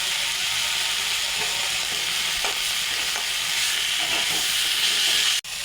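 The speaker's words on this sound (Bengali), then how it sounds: "এখন ভেজে নেব। এখন দিয়ে দেবো কালো জিরা।" Greens frying in a pan after black cumin seeds are added, a loud, continuous sizzle and hiss that holds steady throughout with a few faint stirring scrapes and no talk.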